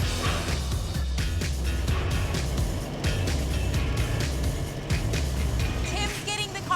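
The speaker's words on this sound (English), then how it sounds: "the 40 Ford makes its way into the building and is almost ready to unload" A 1940 Ford Coupe rolls into a building, its engine a low, continuous rumble under background noise and voices, fading slightly toward the end.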